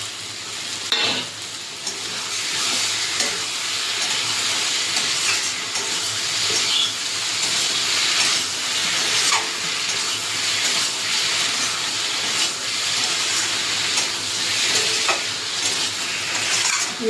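Fried prawns stirred into a softened eggplant curry in a hot pan, a continuous sizzle and frying hiss with periodic scraping stirs, close and steady.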